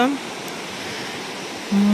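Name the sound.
rushing water of a waterfall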